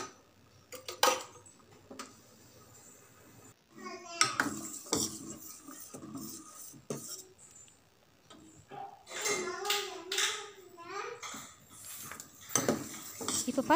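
Semiya sago payasam is stirred in a metal pot, with repeated close spoon taps and scrapes against the pot in uneven bursts, some rhythmic clicking and low bubbling, and a voice speaking intermittently over the stirring.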